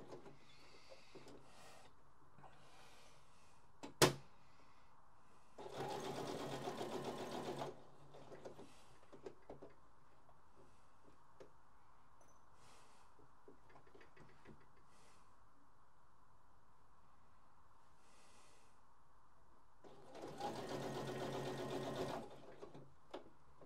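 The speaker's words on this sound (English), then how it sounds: "I've sewn it on a nice little stitch down the middle here" Sewing machine stitching a seam in a linen yukata, with two short bursts of rapid whirring run separated by a long quiet pause, close by.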